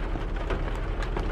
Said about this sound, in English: I like when it rains out, actually.